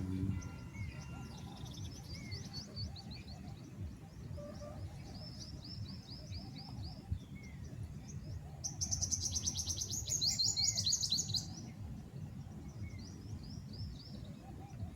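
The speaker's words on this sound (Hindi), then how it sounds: "लेकिन जो ये पक्षी हैं जिनकी चहचहाहट यहाँ पर है" Several birds chirp and tweet at a moderate distance over a low ambient rumble, with scattered calls throughout and a denser burst of rapid trilling chirps near the middle.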